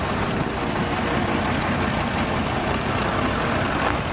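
A heavy vintage tractor engine idles steadily and continuously, a low, even rumble with no changes in pace, close by and fairly loud.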